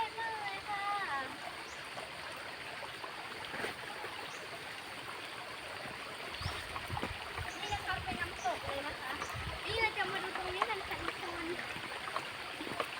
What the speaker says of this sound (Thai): เสียงน้ำไหลซิ่งซิ่งซิ่งนะครับ